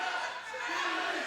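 A sold-out TNA wrestling arena crowd in Atlanta gives off a continuous broad roar of overlapping chatter and shouts, fairly distant and steady throughout.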